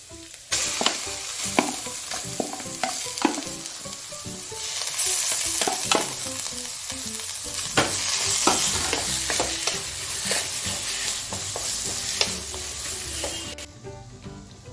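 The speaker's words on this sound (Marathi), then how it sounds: "यामध्ये लगेच आपण भाजी ॲड करून घेऊया।" Vegetables tossed into sizzling oil with pav bhaji masala and Byadgi chilli and stirred hard: loud spatula clatter and scraping over a constant fry hiss, close up, with no voices.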